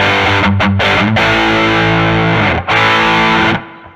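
Electric guitar played through a Line 6 DT25 amp on its Soldano overdrive model into a 4x12 greenback cabinet, with no pedals: thick, loud distorted chords ringing steadily, with brief gaps between strums, then cutting off near the end.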